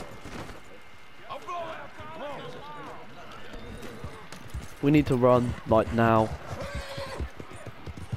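In Red Dead Redemption 2, a horse neighs in loud, drawn-out bursts over the steady thud of its galloping hooves. Someone talks over it throughout.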